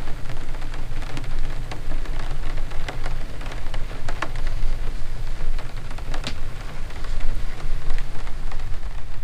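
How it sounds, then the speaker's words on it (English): Steady heavy rain pattering on a surface with scattered louder drips and a low rumble underneath, continuous and close, no voices. "It's a rainy day."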